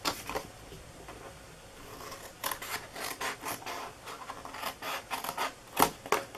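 Scissors or a blade cuts through the cardboard flap of a Christmas window cookie box, giving close, quiet rasping and scraping strokes in an uneven rhythm with no talking.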